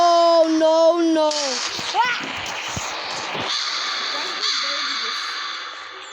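Crows caw in a video game, a few harsh calls cutting through after voices and game sounds, followed by a steady hissing ambience.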